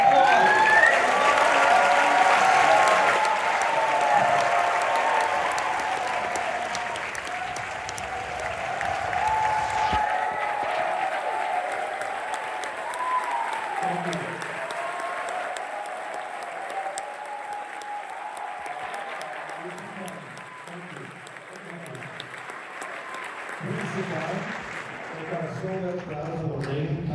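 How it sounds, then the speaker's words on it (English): A theatre audience at a film Q&A gives a long, loud round of applause and cheering that slowly tapers off, with a voice speaking over the clapping toward the end. "Please, a huge, huge, huge round of applause."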